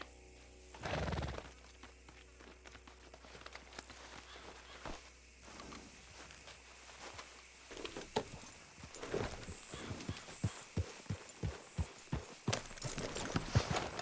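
Horse hooves clip-clop in a steady rhythm that grows louder and quicker toward the end, after a brief thud near the start, in the video game Red Dead Redemption 2.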